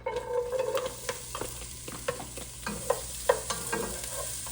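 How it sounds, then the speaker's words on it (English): Onions sizzle steadily in a frying pan, with a continuous crackle broken by repeated scraping stirs of a utensil. "Get that sizzle going on."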